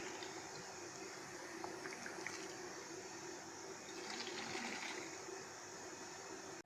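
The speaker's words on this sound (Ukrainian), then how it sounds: "Тепер заливаю киплячою водою." Boiling water poured into three-litre glass jars packed with tomatoes: a steady, continuous gushing pour, close and even, ending abruptly.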